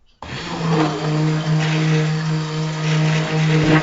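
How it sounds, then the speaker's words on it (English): A stick blender whirs steadily through cinnamon coquito soap batter, a loud continuous motor drone with a strong low hum and shifting higher churning as the head moves through the mix, running alone from start to finish. "And I'll use the stick blender just to make sure it's"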